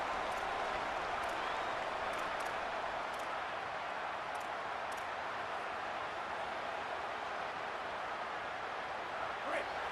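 Stadium crowd noise in an EA Sports College Football game, a steady, dense roar with scattered applause that holds at the same level throughout the clip.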